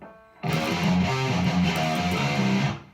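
Heavily distorted electric guitar chugs through a variation of a breakdown, sliding up on the low string into a few punchy notes, loud and unaccompanied for over two seconds.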